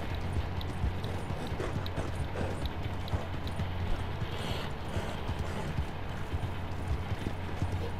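Rapid hoofbeats of a horse in Red Dead Redemption 2 pound in a steady galloping rhythm, continuous and fairly close, with no pause throughout.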